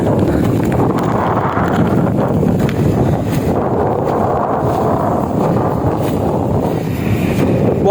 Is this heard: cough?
no